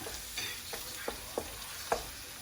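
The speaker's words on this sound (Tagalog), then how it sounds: "Ilagay na natin yung bawang. Hintayin muna natin mag-brown ng konti" Chopped garlic sizzles in a pan at the start of cooking chop suey, with a steady frying hiss and a few faint stirring scrapes, close and alone.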